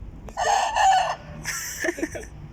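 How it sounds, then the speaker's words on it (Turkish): A rooster crows up close, a loud, strained call in two drawn-out parts with a ragged, breaking finish. "O bizim civcivden büyüttüğümüz bir civciv. civcivden büyüttüğümüz bir civciv. hadi öt öt."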